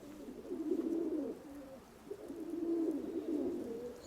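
A pigeon coos twice in soft, low, rolling calls separated by a brief pause, close by and fairly quiet, with no one speaking.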